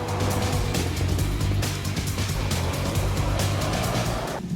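A new Toyota Supra sports car drives with a steady, dense engine drone and road roar, heard from inside at constant loudness with no change in pitch or load, and no speech.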